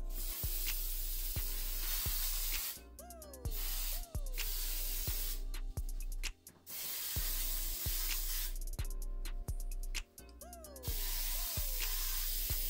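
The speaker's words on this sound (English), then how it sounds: "Now I'm going to use my spray again to spray this pan" Cooking spray is sprayed onto a cake pan in a home kitchen, several close, loud hissing bursts of about a second each. Short pauses and soft clatter sit between the bursts.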